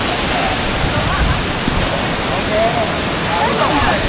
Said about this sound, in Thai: เดี๋ยวผมจะให้ดูบรรยากาศ ข้างหน้าน้ำตก